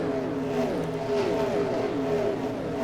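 Stock cars in NASCAR Racing 2003 streaming past on the front straightaway at Pennsylvania, a loud overlapping engine whine with pitches sliding downward as the field zips by.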